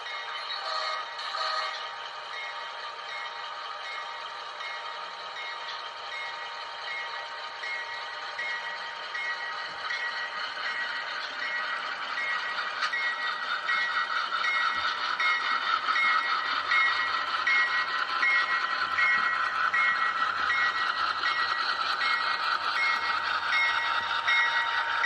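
An HO-scale Amtrak ALC-42 Charger model locomotive backs up with a steady mechanical whir and faint electronic beeping, a continuous hum that grows slightly louder and fuller toward the end.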